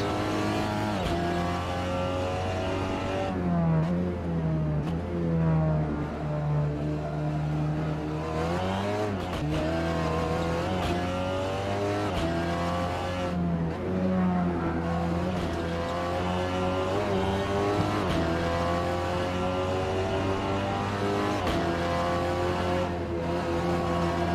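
A SEAT Leon TCR race car in Assetto Corsa at Brands Hatch drones loudly and continuously, its engine note climbing and falling through repeated gearshifts and revs, with an odd-sounding gearbox and occasional tire squeal.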